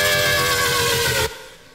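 A Serum synth patch built from an FM comb filter screech plays with the distortion turned off, a dense, buzzy, bright tone with a pulsing low end that sustains steadily, then cuts off abruptly into a fading tail.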